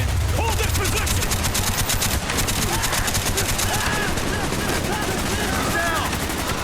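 Sustained automatic machine gun fire rattles in a Vietnam-era trench battle in Call of Duty Black Ops, dense rapid bursts filling the whole stretch with shouted voices mixed in.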